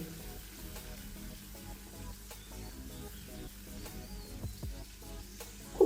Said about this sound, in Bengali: যে মশলাটা আমি তৈরি করে রেখেছিলাম সেটা আমি এখানে দিয়ে দেবো এবং খুব ভালো করে আমি কষিয়ে নেবো